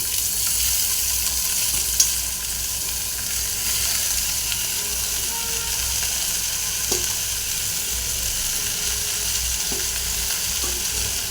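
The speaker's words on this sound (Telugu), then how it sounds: "ఉల్లిపాయలు ఇలా వేగిన తర్వాత ఇందులోకి ముందుగా కట్ చేసి పెట్టుకున్న తోటకూర వేసుకుంటున్నాను" Amaranth leaves and onions frying in a pan give a loud, steady sizzle that runs the whole time, broken by a few faint clinks of stirring.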